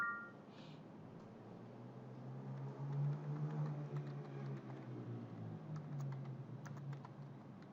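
Rapid typing on a computer keyboard, a steady patter of light key clicks close by over a low background hum, with no talking.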